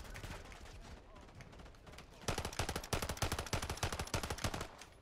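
Rapid automatic gunfire in a video game, with Modern Warfare–style machine-gun bursts that grow louder and more distinct in the second half, firing in a quick steady rhythm over softer background shooting.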